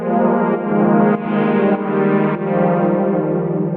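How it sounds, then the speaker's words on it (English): A big, slowly moving 1980s-style synth pad, the OB Pad preset in SynthMaster One, sustains a warm, rich chord that shifts several times in a loud, continuous wash with no voices. "I wanted one of those nice big moving 80s pads"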